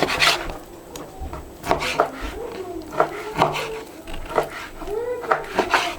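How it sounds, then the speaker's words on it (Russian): Irregular knife taps and scraping strokes on a board, close up, as meat is cut into small pieces for kuurdak in a Kyrgyz home, with a voice murmuring faintly in the background. "Нарезаем мясо на каурдак. На небольшие кусочки нарезаем."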